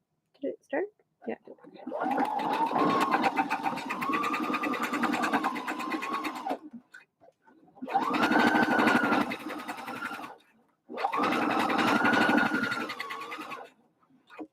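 A sewing machine runs in three long bursts while stitching the curved seam of a bucket hat, with short pauses between runs and a person talking over and between them.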